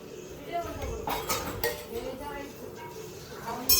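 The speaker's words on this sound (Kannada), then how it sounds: "ಎಷ್ಟೇ ಆಟ ಸಾಮಾನು ಇದ್ರೂ ಲಾಸ್ಟಿಗೆ ಬೇಕಾಗದೆ ಈ ಪ್ಲೇಟು, ಈ ಸ್ಪೂನ್" Children playing with a metal plate and spoon make light clinks and scrapes, scattered and fairly faint, under a person talking.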